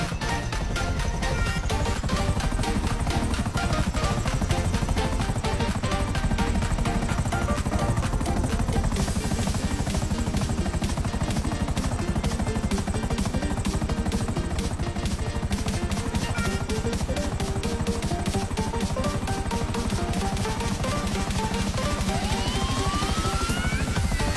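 A toy helicopter starts up and flies, giving a steady loud whirring drone with dense clattering over music-like tones throughout, pitch sweeping upward near the end.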